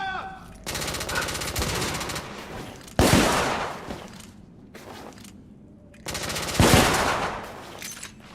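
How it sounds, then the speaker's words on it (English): Rapid bursts of automatic gunfire from The Order 1886 video game, loud repeated volleys with sharp blasts around three and six and a half seconds, no talk. "Gunfire's coming from that tunnel."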